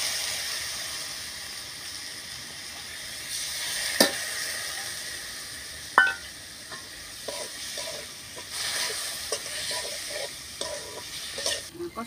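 Ground chili, cumin, coriander, ginger and onion pastes sautéing in a pan for a fish curry with potato and bitter gourd, a constant sizzle broken by stirring scrapes and a couple of sharp knocks.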